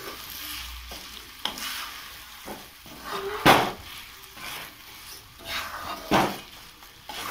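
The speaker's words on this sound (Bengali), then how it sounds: "চিনিগুলিকে অল্প ভেজে নেব।" Sugar lightly frying in a pan for sour elephant-apple chutney, a soft sizzle punctuated by irregular scrapes and knocks of a spoon against metal, close by and with no speech.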